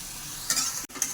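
Chicken pieces fry in butter for chicken kosha, a brief close sizzle with a stirring scrape and a momentary dropout.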